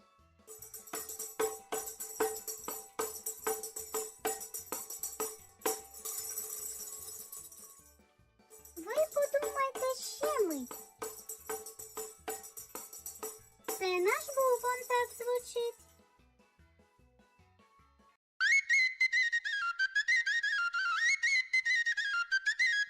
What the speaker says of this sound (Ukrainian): Це сопілка так звучить.